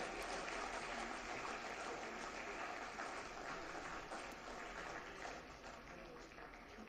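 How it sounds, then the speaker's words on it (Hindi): An audience at a stage event gives a long, steady round of applause, a dense, even wash of clapping that fades slightly toward the end. "ज़ोरदार तालियों से इस्तकबाल करें।"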